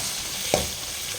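Tomatoes sizzle and fry in a pan while being cooked for a radish chutney, a steady close hiss with a brief stir or scrape near the middle and no talking.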